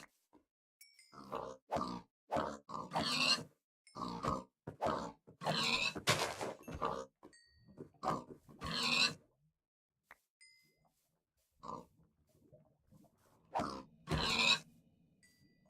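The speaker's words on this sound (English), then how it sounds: "there's some more pigs." Pigs grunting in the Minecraft video game: a run of short, close, fairly loud snorting grunts coming in irregular clusters, separated by brief silences.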